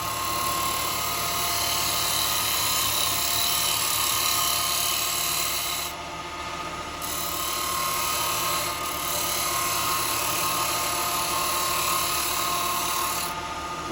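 A carbide tool turns wood on a lathe, giving a steady, loud, continuous scraping whir with a high hiss that holds for the whole stretch and dips briefly once or twice.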